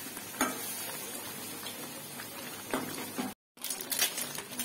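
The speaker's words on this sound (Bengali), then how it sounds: "তরকারিটা অলমোস্ট অনেকটা কষে গেছে" Curry being stir-fried in a pan, with a steady soft sizzle and occasional scraping stirs; fairly faint and close, briefly cut out near the end, no voices.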